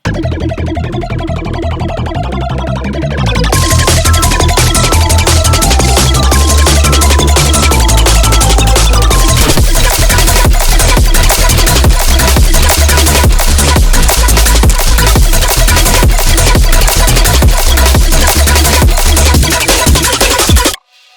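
A dense electronic dance mix with a bright, fast acid synth arpeggio lead made in Serum riding over pounding drums and bass, loud and continuous after a short filtered intro.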